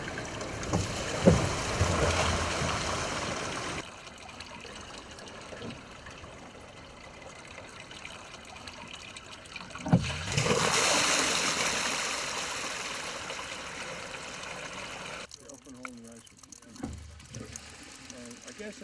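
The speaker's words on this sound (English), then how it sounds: "A little leak there, right? A lot of air in there." Water rushing and air hissing out of a small leak in a gravity-powered water pump setup, a steady splashing flow with louder gushing bursts near the start and middle, fairly close.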